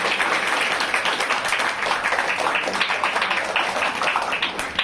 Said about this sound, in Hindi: जोरदार तालियां बजाएंगे सर।